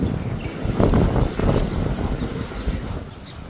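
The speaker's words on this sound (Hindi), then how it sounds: "बहुत ज़्यादा हवा चल रही है यहाँ पर" Strong wind gusts roar past the microphone outdoors near trees in cold morning air around Coimbatore, swelling and easing in low rumbling surges with no talking.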